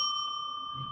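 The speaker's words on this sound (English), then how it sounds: "I rang the bell at like an inappropriate time" A hand bell is struck once, giving a bright, sustained ringing tone that fades slowly over a second, loud and close with no talk.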